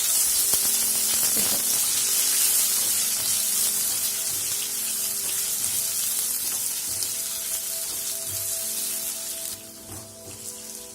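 Paneer cubes, about 200 grams, fry in a few spoons of oil in a pan with a steady close sizzle and crackle. Occasional clinks and stirring scrapes sound over it, and no one speaks.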